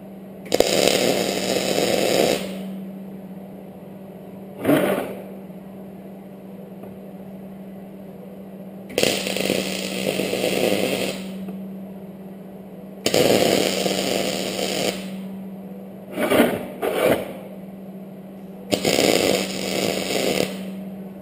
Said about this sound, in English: The only thing I don't like about MIG welding is the splatter.